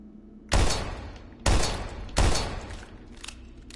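Three loud gunshots from the video game Daymare 1998, each with a sharp attack and a decaying tail, then fainter rumbling afterward.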